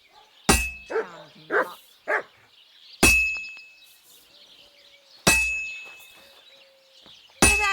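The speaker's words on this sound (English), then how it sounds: "No one wants to hear your barking." In the medieval blacksmith setting of the video game Kingdom Come: Deliverance 2, a dog barks several times in close, clear yelps. Loud ringing hammer clangs on an anvil sound between the barks.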